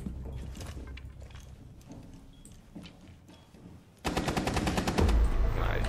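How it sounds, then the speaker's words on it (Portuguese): Gunfire in the Rainbow Six Siege video game: quieter in-game ambience and scattered shots first, then a sudden loud sustained burst of rapid automatic fire that carries through to the end. "Eu atirei no maluco e ele foi banido, velho"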